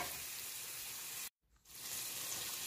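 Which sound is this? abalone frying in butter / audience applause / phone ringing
abalone frying in butter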